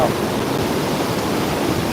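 Loud, steady rushing water of a strong river fills the air, a dense unbroken roar of fast-flowing water heard up close.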